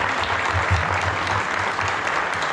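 Audience at a community evening event in Salazar bursts into loud, close applause, a dense and steady clatter of many hands lasting a few seconds.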